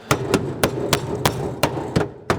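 A hammer beats out dented sheet-metal bodywork on a body-swapped Dodge, about seven sharp, evenly spaced metallic blows against a steady background rumble.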